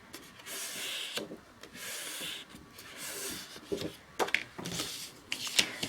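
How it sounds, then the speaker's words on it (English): Scored paper for a folio album being folded along its score line, heard as close, repeated rubbing and scraping strokes of the crease being pressed down, with a few sharper scrapes near the end. "we'll fold on the score line"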